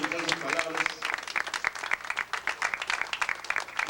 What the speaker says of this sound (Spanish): Aplauso para la señora Teodosia, por favor